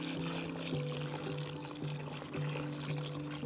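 Water is poured for making duna in a continuous, steady stream, a close, trickling pour with a faintly rising tone and no voices.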